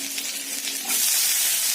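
Pieces of pointed gourd drop into a pan of frying onion and potato, and a faint sizzle swells abruptly into a louder, bright hiss that continues alone.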